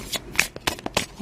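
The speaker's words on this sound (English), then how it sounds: "I wanted to shuffle that again" Tarot cards are shuffled by hand in a few quick riffling bursts with short gaps between them, crisp, close and fairly loud.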